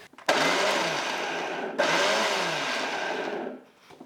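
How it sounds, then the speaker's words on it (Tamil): An electric mixer grinder jar whirs loudly as it grinds soaked ingredients with a little water for dosa batter, running in two bursts with a brief pause between them before the motor winds down. "இதை ஒரு மிக்ஸி ஜாரில் சேர்த்துடலாம். இதில் கொஞ்சமாக தண்ணி சேர்த்துட்டு இதை அரைச்சி எடுத்துகிட்டு வந்துடுறேங்க."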